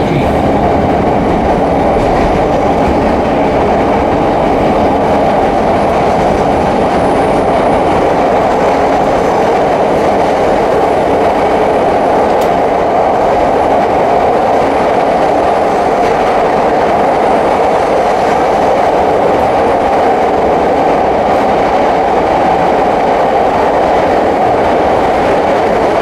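A Chicago CTA Blue Line train rumbles along continuously to O'Hare, with loud, steady wheel and rail noise and faint clickety-clack from inside the car.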